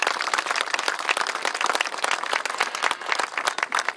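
An audience at an inauguration of a bird village claps in welcome, a steady, lively round of many hands close by that lasts throughout with no break.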